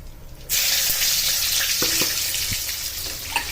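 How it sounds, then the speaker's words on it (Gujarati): Asafoetida, garlic and chillies drop into hot oil and burst into a loud, steady sizzle that carries on to the end, with a few faint clinks over it. "તો અહીંયા તેલ આપણું ગરમ થઈ ગયું છે હું હવે હવે હું નાખી દઈશ આમાં હિંગ આટલી અને લસણના મરચાં બંને નાખી દઈશ"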